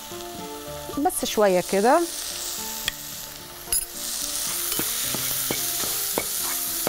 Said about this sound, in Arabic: دلوقتي، قلينا البصل وكل حاجة